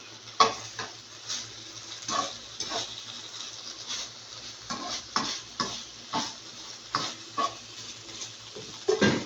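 Rhythmic scraping and clinking as ingredients are stirred in a pan, repeated strokes about once a second over a faint sizzle, close up.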